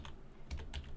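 Computer keyboard typing of a chat command in the game Star Trek Online, a quick burst of several close keystrokes in uneven rhythm, with no talking.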